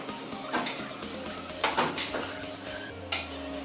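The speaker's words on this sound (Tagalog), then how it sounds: "Ngayon, haluin natin muli." A utensil scrapes and clinks against a pot while pancit noodles are stirred, with a soft sizzle underneath and no talking.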